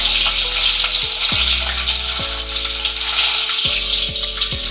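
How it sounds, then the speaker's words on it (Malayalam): Mustard seeds and curry leaves frying in hot oil, a loud, dense, steady sizzle close by with a faint background hum, no one speaking. "ഓയിൽ ചൂടായതിനു ശേഷം നമുക്ക് ഇതിലേക്ക് 1 ടീസ്പൂൺ കടുക് ഇട്ട് കൊടുക്കാം"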